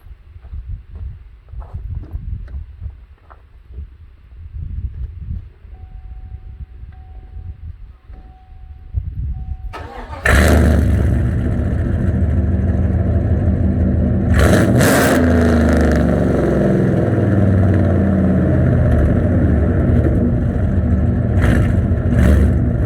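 Quiet ticking and clicks, then a 2014 Chevy pickup truck's 5.3 engine with cold air intake and aftermarket exhaust cranks warm and roars to life with a loud, rumbling exhaust, revving several times up close.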